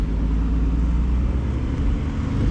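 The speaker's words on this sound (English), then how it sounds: "Big Porsches coming through" Porsche cars rolling past at a large Los Angeles car show, a low steady engine rumble close by, continuous and fairly loud with no clear passes standing out.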